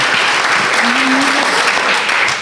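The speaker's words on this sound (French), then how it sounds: "vous avez le droit d'applaudir" A hall audience at an assembly breaks into sustained, loud applause, an even roar of clapping throughout with a brief voice faintly audible beneath it.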